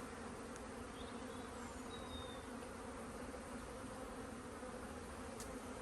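Honey bees crawl over a hive frame during an inspection, with some carrying orange pollen. Their buzzing forms a steady, dense hum that stays even and close throughout, with no voices.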